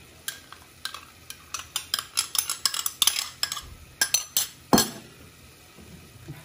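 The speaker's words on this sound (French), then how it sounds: "كنحركو شويه" A utensil stirs sauce in a pot for blanquette de veau, with a quick irregular run of light clinks and scrapes against the metal over a soft background hiss. The sound is fairly close and moderately quiet, and no one talks.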